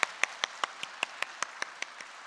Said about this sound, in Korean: 우리 이 모든 것 허락해 주신 하나님께 먼저 영광과 감사의 박수를 보내드리길 소망합니다.